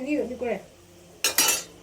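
Chicken being mixed with turmeric, chili powder and salt for a family chicken curry. A short low murmur comes first, then a couple of quick metallic clanks of a spoon against the vessel, close and clear.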